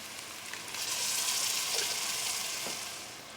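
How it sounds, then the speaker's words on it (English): Canned chili and soup are tipped into a pot heated on high, and a steady hissing sizzle swells and then holds, fairly loud and close, with no talking. "Turn your burner on high, add your can of chili, add your can of soup"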